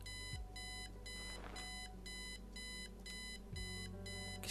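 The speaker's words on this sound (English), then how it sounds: "Look at the alarm clock. Let's turn it off, because that beeping is annoying." An alarm clock in the point-and-click game Kathy Rain beeps in a fast, regular run of bright, evenly spaced pulses over a faint low hum, steady and insistent with no voices.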